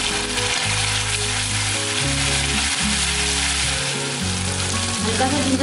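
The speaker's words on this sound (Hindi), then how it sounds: "तेल गर्म हो गया है तो 1/4 चम्मच जीरा डालेंगे इसमें" Cumin seeds and ginger-garlic paste fry in hot oil, a loud steady close sizzle that runs without a break beneath a low droning hum.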